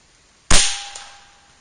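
A single sharp shot from an Air Venturi Avenger .25 air rifle firing a wide-diameter pellet or slug, a loud close crack with a short fading tail and a faint second tick, nothing else around it.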